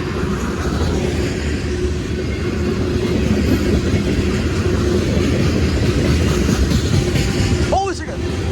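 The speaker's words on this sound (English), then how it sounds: "We got a train coming." A train rolls past on the rails at Lake Avenue in Blasdell, New York, giving a steady, loud rumble with rhythmic wheel clatter that holds throughout, ending in a brief high squeal.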